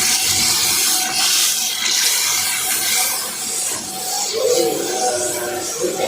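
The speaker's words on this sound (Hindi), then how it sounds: "आपने उतना पानी डालना है, ज़्यादा पानी नहीं डालना" Water pours steadily into a pan of kofta curry gravy for several seconds, making a bright splashing hiss that dips briefly near the middle before resuming.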